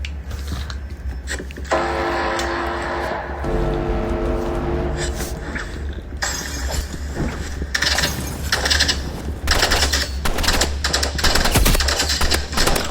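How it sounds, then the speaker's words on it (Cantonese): Assault rifle firing three-round bursts in an arena shooter game, loud rapid cracks of gunfire rattling through a busy mix of game effects. "反應嚟唔切添，衝擊步槍3連發嘅"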